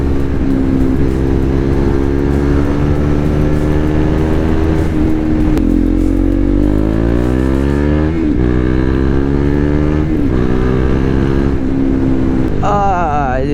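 A KTM 390 Duke motorcycle engine with ride-by-wire throttle revs and climbs through several accelerating pulls, loud and close, with steady wind and road roar throughout.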